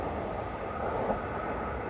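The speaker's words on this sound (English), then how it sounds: "Off goes that train" A train pulls away from a station toward Flynn Street Station, a steady broad rumble and whoosh at moderate distance, unbroken and without voices.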